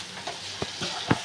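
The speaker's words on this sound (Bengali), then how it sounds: "আলুটা দিয়ে একটু ভালো করে নাড়বো" Boiled potatoes are stirred into fried spice masala for aloo dum, a soft steady sizzle punctuated by three or four spoon scrapes and knocks against the pan.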